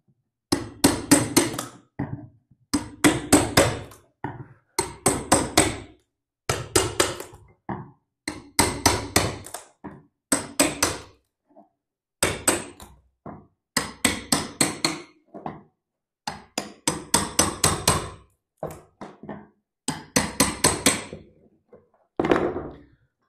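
A hammer pries and knocks leftover nails from a hardwood floor after carpet removal, sharp repeated clusters of metallic blows and thunks in bursts with short pauses, close and loud.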